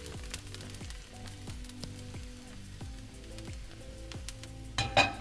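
Garlic and pepper flakes fry in olive oil in a pan over medium heat, a faint steady sizzle with a soft clink near the end, under a repeating background melody and no talking.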